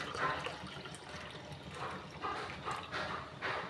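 Amla and carrot juice poured into a tumbler gives a soft, low liquid trickle and splash, quiet and close, in short uneven surges.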